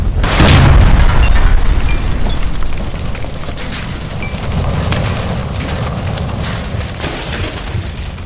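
A gas line blowing up in the game L.A. Noire, a loud close boom that bursts at once and then rolls into a long crackling, roaring rumble of fire and debris, with no talk.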